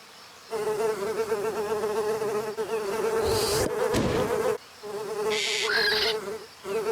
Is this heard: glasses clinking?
no